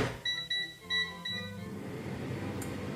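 An air fryer in a kitchen gives a short series of electronic beeps, several quick bright tones in a row, close and clear, followed by a low whirring hum.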